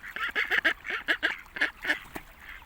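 Ducks quacking nearby in Logroño, Spain, a rapid, loud string of harsh nasal calls in quick bursts that tapers off toward the end.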